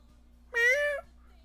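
A single short, clear cat meow sounds nearby, rising and falling over about half a second against a quiet background hum.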